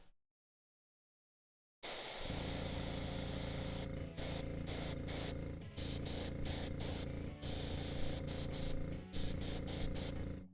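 Airbrush spraying paint onto a miniature sword, a loud steady hiss after a moment of silence that is repeatedly cut off briefly and restarts in short bursts.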